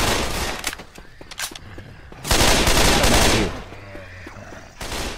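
Rapid gunfire from a still-running gun in the zombie shooter Left 4 Dead 2, in bursts of sharp shots with a dense loud volley midway, close and alone without talk.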